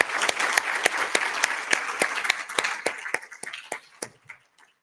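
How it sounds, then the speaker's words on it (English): Applause from a conference audience for a panel of four speakers, a steady patter of many hands clapping at moderate distance that thins into scattered individual claps and fades out by the end. "Please join me in just a round of applause"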